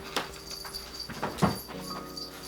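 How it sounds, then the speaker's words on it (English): A small dog gives a few short, sharp yips and whimpers at moderate distance, with quiet room noise between them. "She's barking."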